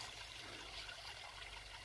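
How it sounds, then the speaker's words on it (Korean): Valley stream water trickling under ice at Seonyudong, a faint, steady watery hiss without other sounds. "계곡의 물이 얼음 밑으로 흐르고 있네요."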